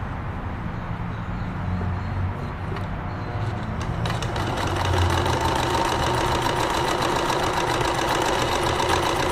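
Necchi 525FA sewing machine stitching a box stitch, a rapid mechanical clatter that builds to a louder, steady whirring run midway through, close up and without speech.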